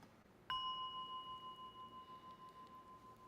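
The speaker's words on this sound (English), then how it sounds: "we have a lovely bell whose voice will be heard right now" A bell struck once to close a Buddhist lecture rings out with a clear, sudden strike, then a long pure ringing tone that fades slowly with a gentle pulsing waver, alone in a quiet room.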